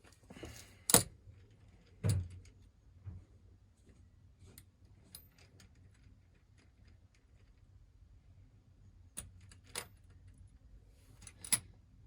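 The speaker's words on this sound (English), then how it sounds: "I am going to remove the see-through screws." Small screws being removed from an RC beadlock wheel: scattered faint clicks and metallic ticks, with a few sharper taps spread irregularly across a quiet background.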